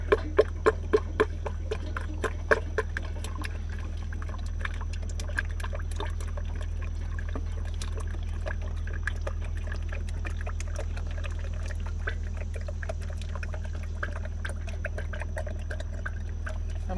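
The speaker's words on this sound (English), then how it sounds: "I'm not pouring in too fast, am I?" Fluid poured into a John Deere 450C track loader, a steady, continuous pour lasting many seconds, preceded by a few sharp knocks at the start, close by and without talk.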